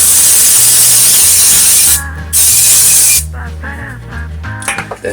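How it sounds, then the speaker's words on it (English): Cooking oil spray hisses onto air fryer trays while making donuts, in two close, loud bursts separated by a short gap, the second fading into quieter clatter and a faint voice. "Coat the bottom or some parchment paper with a little bit of oil or spray oil."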